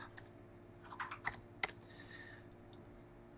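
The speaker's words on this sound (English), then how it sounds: "Go to the terminal and type in Variety" Quick bursts of keystrokes on a computer keyboard while a command is entered in a Linux terminal, close and fairly quiet, a short cluster of clicks in a mostly still room.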